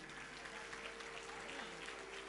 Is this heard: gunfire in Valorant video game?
no